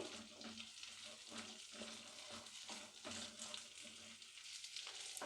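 Okra pieces frying in hot oil in a pan, giving a faint, continuous bubbling sizzle with soft rhythmic stirring strokes throughout, no voices.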